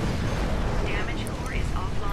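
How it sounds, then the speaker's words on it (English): A large explosion in the video game Titanfall, heard as a heavy, continuous low rumble with a dense roaring body over the whole short moment. "I didn't get away from the explosion, so I took some pretty big damage there"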